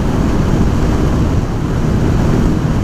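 Steady, loud wind roar buffets the microphone while riding a Honda Sabre 750 motorcycle on an interstate, a constant low rumble with no break and no talk.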